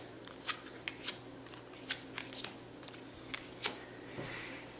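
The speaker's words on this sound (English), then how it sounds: "First of all, we're going to lay out our cards for this turn" Playing cards for a board game being laid out on a table, five of them, as a series of crisp separate slaps and slides, close and quiet without talk.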